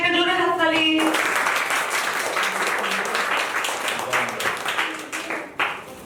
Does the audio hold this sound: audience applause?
yes